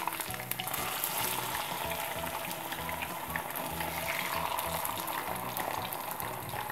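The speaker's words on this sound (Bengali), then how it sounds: "এটা খুব আস্তে আস্তে ভাজতে হবে, মাংসটা যাতে ভালো মতো সেদ্ধ হয়।" Beef chaap, Bihari-style from Mohammadpur, frying slowly in a pan after being flipped, giving a steady close sizzle with a faint bubbling undertone throughout, no talking.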